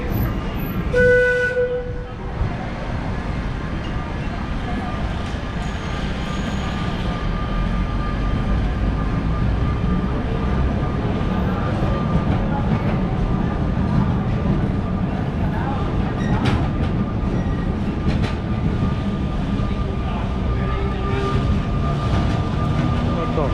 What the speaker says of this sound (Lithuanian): Atrodo, tramvajus pravažiuoja.